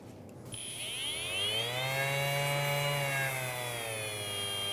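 A Bosch brushless 5-inch random orbit sander spins up to full speed and runs at a steady high whine, its pitch rising slightly as it settles, loud and close, with no talking.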